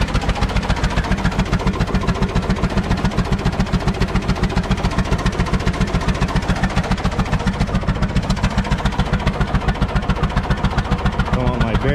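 The engine of a 1918 IHC Titan 1020 tractor runs steadily in Vermont with a rapid, even chuffing beat, loud and close throughout, with faint talk mixed in.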